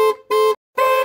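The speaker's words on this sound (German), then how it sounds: "Jetzt wird das erste Mal die Hupe getestet." A VW Touran's horn, tested after repair, blares three times in quick bursts: loud, close, steady-pitched honks separated by brief silences.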